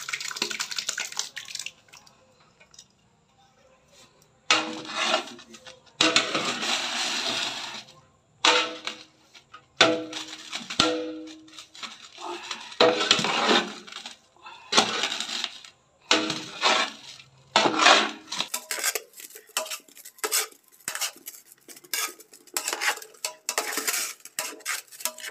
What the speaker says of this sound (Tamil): புளி காய்ச்சலை கொட்டி கிண்டிக்கலாம், புளி சாதம் ரெடி ஆகிடும்